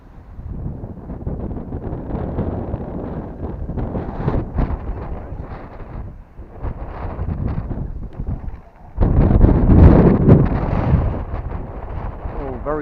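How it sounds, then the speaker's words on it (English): Gusty wind buffets the microphone outdoors in loud, continuous rumbling blasts, easing briefly and then surging harder into a strong roar, with no clear speech above it. "Very gusty."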